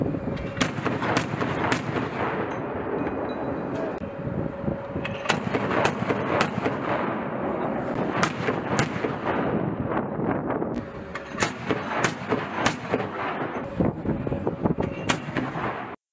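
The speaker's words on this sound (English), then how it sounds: "a 30mm weapon system based on Rafael Advanced Defense Systems proven Samson family of turrets" A Samson 30mm turret gun fires from a Stryker Dragoon double V-hull infantry carrier vehicle, making sharp repeated cracking shots in irregular bursts over a constant rumbling background.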